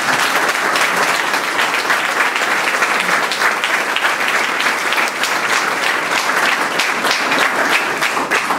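Audience at a cultural center event in Peru applauding warmly, dense sustained clapping from a crowd, loud and even throughout.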